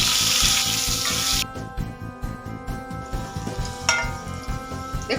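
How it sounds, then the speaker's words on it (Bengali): Potatoes frying in hot oil with salt and turmeric, a loud steady sizzle that drops slightly after a second and a half, with a few faint clinks of a utensil; no talking. "আলুগুলো লাল করে ভেজে নেব"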